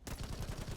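Rapid burst of meaty gunfire bullet impacts in the video game The First Descendant, a steady thudding rhythm of roughly a dozen hits, loud and close with no talk.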